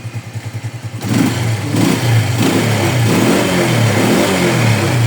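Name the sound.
motorcycle engine revving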